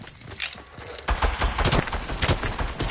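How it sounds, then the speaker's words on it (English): Gunfire from a player's weapon in Fortnite, a quick rapid string of close shots starting about a second in and continuing steadily to the end over busy game noise. "That's me shooting."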